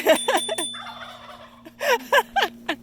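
Turkeys gobble in loud, warbling bursts close by, one long rattling gobble in the middle and several shorter ones after, over a steady low hum.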